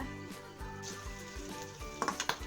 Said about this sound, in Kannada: ಈರುಳ್ಳಿ ಹಾಕೋಣ, ಅದು ಫ್ರೈ ಆಯಿತು